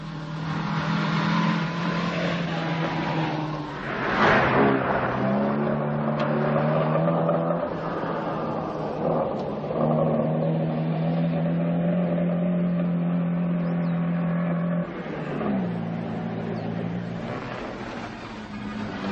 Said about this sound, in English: From Yugoslavia, Kuzmik in the BMW.